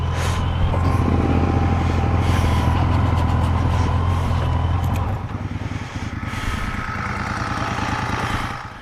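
A noisy motorcycle engine on a mountain rally ride, a loud steady drone running throughout at close range with a slight dip midway.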